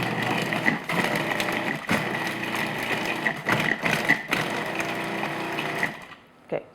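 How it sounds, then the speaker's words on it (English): A food processor whirs as it combines ingredients for date walnut bread, a loud steady motor drone broken by brief dips and pulses before it stops near the end. "So what I'm going to do is just process this till it's combined."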